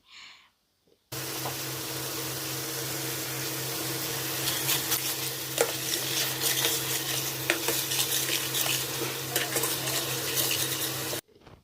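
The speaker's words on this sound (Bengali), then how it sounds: "লবণ এবং হলুদ দেওয়ার পর আরও কিছুক্ষণ এই মশলাটা কষিয়ে নিয়েছি" Spice paste with salt and turmeric is stirred and fried in a pan, with a steady sizzle and repeated close scraping and clinking of the utensil against the metal. The sound stops abruptly near the end, and no one speaks.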